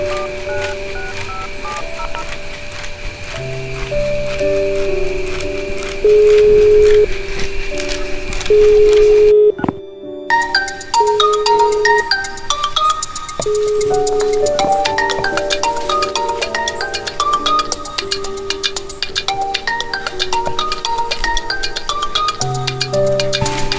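Electronic telephone tones during a call, a long run of stepped, beeping melodic notes that is loud and continuous, with a brief cut near the middle before the pattern resumes.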